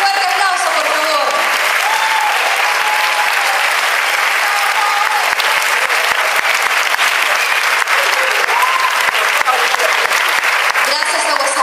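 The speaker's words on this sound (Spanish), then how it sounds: "Un fuerte aplauso para todos." An audience at a Japanese J-pop karaoke contest claps loudly and steadily for the full stretch, with dense, continuous applause and a few faint cheers inside the crowd noise.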